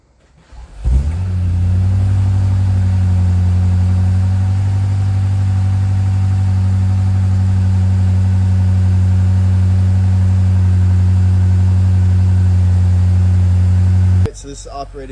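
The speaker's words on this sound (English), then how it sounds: "We are going to give it a cold start, and hopefully the valves are closed so I don't rattle the whole inside of this warehouse." A BMW X6 M60i fitted with a titanium P1 Motorsports exhaust fires up from cold inside a warehouse, flaring loudly before settling into a steady, deep idle that holds for about thirteen seconds before cutting off.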